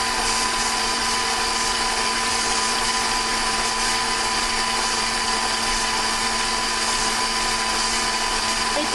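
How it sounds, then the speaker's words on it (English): A high-power electric mixer whips cold cream toward butter, giving a loud, steady motor whir with a bright, dense hiss that runs unbroken from start to finish. "It doesn't take as long as you might think for this to turn to butter, especially when you have a high-power mixer."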